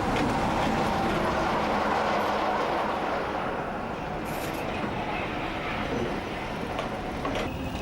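Diesel locomotive D123 on the Great Central Railway gives off a steady, loud engine rumble with rolling rail noise that holds evenly throughout, with no voices.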